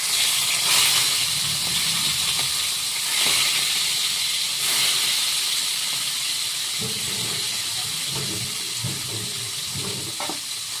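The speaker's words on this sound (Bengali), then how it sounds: "তেলটা গরম হয়ে গেছে, মাছগুলো দিয়ে দিই।" Fish sizzle in hot oil in a pan for a bitter gourd and potato fish dish, a loud, continuous frying hiss with occasional stirring clatter and no talk.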